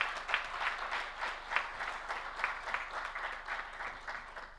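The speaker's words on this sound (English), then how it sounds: "please clap for them." Audience applause at an African financial markets forum, a steady sustained patter of many hands clapping with rhythmic peaks, moderately loud and filling the room without speech.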